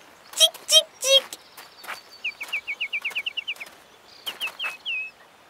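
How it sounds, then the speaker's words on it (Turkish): Cartoon birds sing in a series of quick chirping trills, clear and close. A few sharp percussive notes come first, then two bursts of rapid high tweets with a short pause between them. "Kuş seslerini dinle abi. Biri çok acıklı ötüyor."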